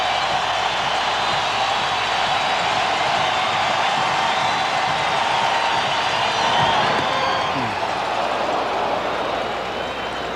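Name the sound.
baseball stadium crowd rising and cheering at World Series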